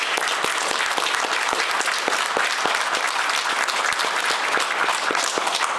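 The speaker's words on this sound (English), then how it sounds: "Let's give him a round of applause." Applause at a law school portrait unveiling honoring the late E. John Wherry Jr.: a dense, sustained crowd of hands clapping steadily at even loudness, with individual sharp claps standing out throughout.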